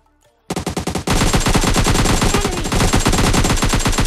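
An AKM assault rifle fires in PUBG Mobile Lite: a brief stuttering burst, then loud, sustained rapid automatic fire close up.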